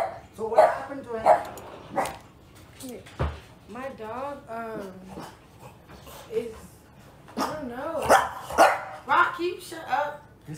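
A dog barks and whimpers in short bursts, close and fairly loud, mixed with voices talking over and between the sounds.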